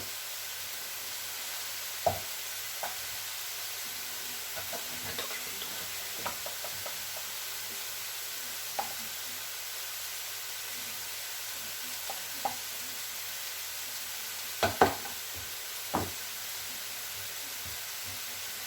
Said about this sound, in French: Bien revenir vos poireaux avec les champignons.